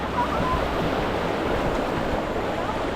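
Rushing, churning water roars steadily throughout as a raft goes down a waterfall, a dense whitewater wash with no clear voices.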